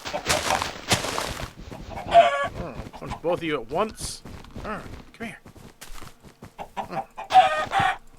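Blocky chickens in the video game Minecraft cluck and warble in short repeated bursts, with someone talking over them and game footsteps and hits between.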